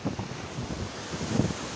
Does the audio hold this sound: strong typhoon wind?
yes